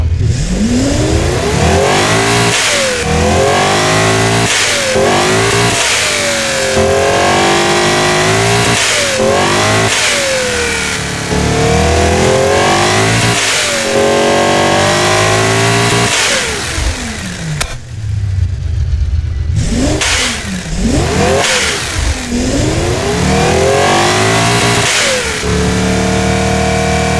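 A 6-liter V12 producing 500 pound-feet in a 1990 Super GT car, built in the Automation game, revs hard over and over. Loud rising and falling engine sweeps run throughout, with a short dip near the end before more revving.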